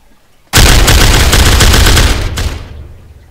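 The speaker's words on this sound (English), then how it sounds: "the guns should start firing automatically, causing no need to have a firing squad present to execute" Automatic guns in a video game's firing system open up suddenly in a loud, continuous burst of rapid gunfire lasting about two seconds, then cut off and echo away.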